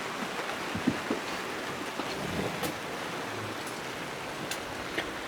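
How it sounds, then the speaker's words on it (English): Steady rain falls outside a garage where a turbocharged 406 engine build is underway, a continuous soft hiss with occasional faint drips and taps, fairly quiet and without talk. "of course, it's raining on us now"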